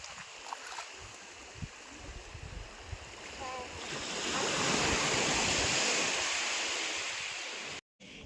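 Sea waves wash onto a beach in a continuous surf roar that swells louder midway, with wind buffeting the microphone and faint background voices.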